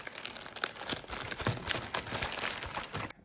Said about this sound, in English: So let me rip this plastic bag.